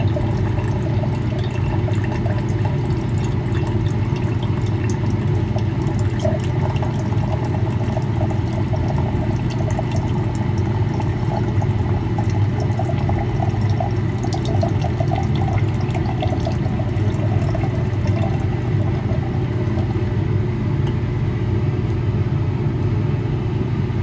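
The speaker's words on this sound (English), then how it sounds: "Here goes the ammonium chloride." Ammonium chloride is poured into a solution to precipitate palladium during platinum-group metal recovery from dental scrap, heard as a continuous, loud, close liquid pour with a steady rushing rumble lasting the whole time.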